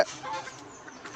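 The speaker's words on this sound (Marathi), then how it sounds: "मला इथे कोंबडीचा आवाज येतोय बघा" A chicken gives a few short clucks, brief and fairly quiet, with light background noise.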